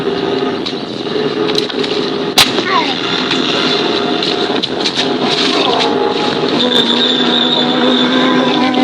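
A space-soldier video game explosion: a sharp, loud burst cutting through a constant mechanical game soundtrack, with smaller crackling hits scattered around it and a low voice present.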